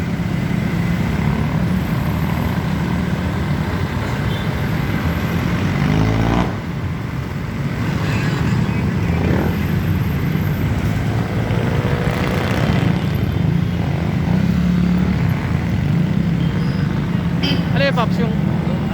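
Road traffic with cars and motorcycles rumbles steadily nearby, with passing engine swells through the mix while people talk throughout.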